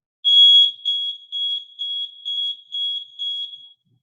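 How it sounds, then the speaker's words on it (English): A hydrant-flushing monitor device emits a loud, close series of about eight evenly spaced high electronic beeps, like a smoke-alarm chirp, each with a steady rhythm, and nothing else is audible. "the beep will go beep, beep, beep, and it tells them exactly when I've hit the marks that I want to hit on this particular flush"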